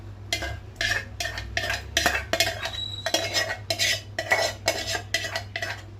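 Metal utensil scraping and clinking in a vessel as rice is mixed with tamarind pulp for pulihora, a steady rhythm of stirring strokes, close up, over a low background hum.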